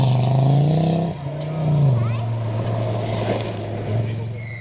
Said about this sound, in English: making our top 10 with that distinguishable engine note is the Audi Quattro of Simon and Mark Tennant.